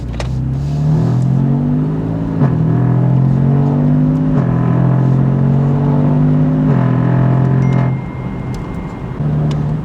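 A BMW F82 M4 Competition is driven through several rising engine pulls, each revving up then dropping as gears change, loud and close from inside the car with no talking.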